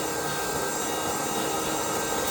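A vacuum cleaner runs close by with a steady, loud whine and airy rushing roar, unbroken throughout with no talk over it.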